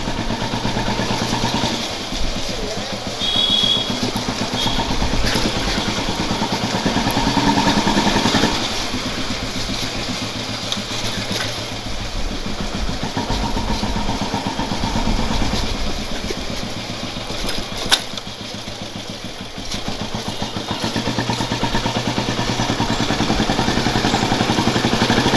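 A 60-year-old Royal Enfield Bullet motorcycle engine runs steadily on a city ride with a dense mechanical chug and clatter, loud and close, rising and easing slightly with throttle throughout.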